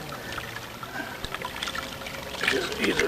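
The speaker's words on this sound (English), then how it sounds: "Fill the water bag," Water gurgles and trickles into a water bag at a spring, growing louder and splashier toward the end, with outdoor background noise throughout.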